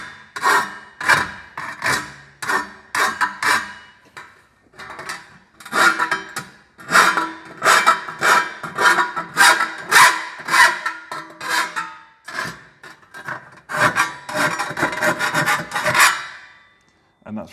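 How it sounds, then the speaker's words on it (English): Hand file scraping the sharp cut edges of metal trunking, rapid rasping strokes in uneven bursts with short pauses, close and loud, no speech. "I'm just going to give it a file just to get rid of those sharp edges"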